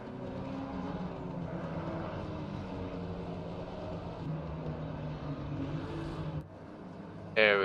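A GT Americas race car at Paul Ricard drones steadily in another car's slipstream, a sustained engine tone with commentary talking over it, ending in a sharp rising rev.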